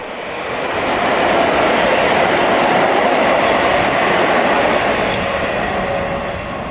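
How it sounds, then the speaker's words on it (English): A New York and Atlantic RS70 freight train led by engines 271 and 155 roars past close by, a loud steady rumble with rail clatter that swells in and holds throughout. "up next you'll see the New York and Atlantic RS70."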